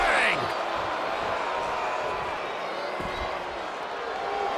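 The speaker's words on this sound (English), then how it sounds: "The crowd is fired up." Arena crowd noise from the WWE 2K25 wrestling video game fills the scene as a dense, steady roar of cheering, with a few thuds and impacts breaking through.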